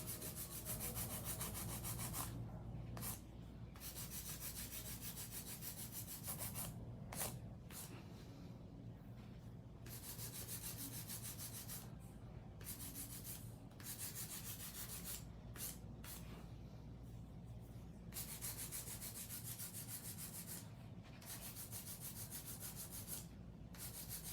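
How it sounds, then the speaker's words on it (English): A long acrylic nail is hand filed, producing a continuous close scratchy rasping in rapid back-and-forth strokes, with brief pauses between bursts of filing. "So I'm hand filing."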